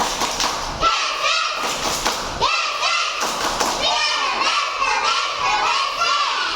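A school class doing a rhythmic clapping cheer, loud synchronized claps with children chanting and shouting together, close and energetic throughout.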